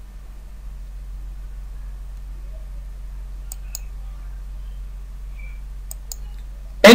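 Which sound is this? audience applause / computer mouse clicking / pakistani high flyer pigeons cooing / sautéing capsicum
computer mouse clicking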